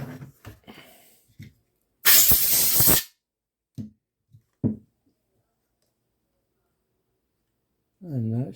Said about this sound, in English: I've got a little can of compressed air. Let's see if we can get some of these dust bunnies out of here.